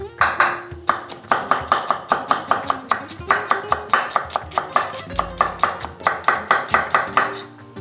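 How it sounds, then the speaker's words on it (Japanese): A knife finely mincing onion on a cutting board for a Turkish white fish soup, a fast steady run of sharp close taps with short pauses between bursts. "玉ねぎをみじん切りにし"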